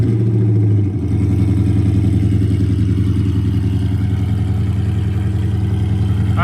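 A Magnum car engine idles outdoors just outside a garage, giving a steady, loud, low rumble with an even throb from start to finish and no voices.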